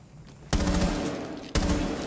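Gunfire from the tactical shooter Rainbow Six Siege: two sudden loud bursts, the first about halfway in and the second a second later, each ringing on with a dense rattling tail close up, with no talk.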